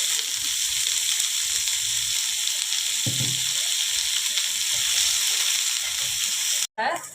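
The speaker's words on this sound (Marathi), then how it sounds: "थोडंसं तेल टाकते म्हणजे लवकर तळल्या पण जातो आणि भाजल्या पण जातो" Onions fry in a little oil in a pan, giving a steady crackling sizzle with occasional soft stirring scrapes, fairly close, ending with a brief cutoff near the end.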